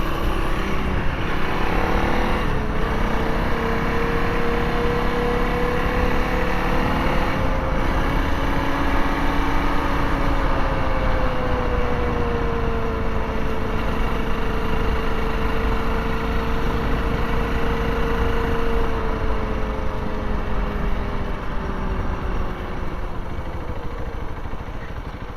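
A 2023 Honda CRF300L dual-sport motorcycle rides down a road, its single-cylinder engine droning steadily and close throughout, pitch rising and falling gently with throttle changes and wind rushing over it, no talking.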